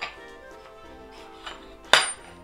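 A metal rose engine spindle slides into a rosette barrel with soft scraping and rubbing, then lands in one sharp, ringing metallic clank near the end, all close by.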